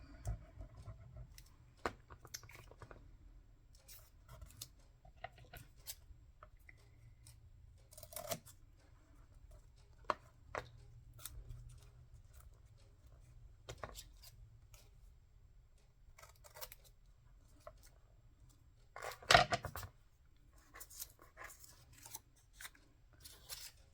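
Scissors snipping small bits of paper for a journal: quiet, sparse crisp cuts and rustles spaced irregularly, with one sharper snip near the end, in a near-silent room.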